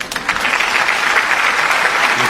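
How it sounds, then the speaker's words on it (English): Live show audience breaking into a round of applause, dense and loud steady clapping that fills the whole moment without talk. "Everybody get block a round of applause for not dropping my cup"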